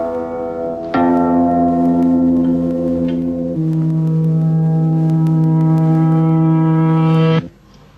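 Notes recorded on magnetic tape and played reversed, so each decay swells first: a loud, sustained, bell-like tone that shifts pitch partway through, then cuts off abruptly.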